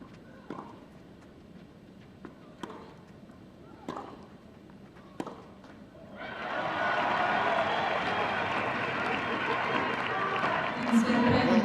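Spanish crowd at a 2001 Fed Cup Final tennis match bursts into sustained applause after a few scattered sharp sounds, the clapping swelling and holding steady to the end.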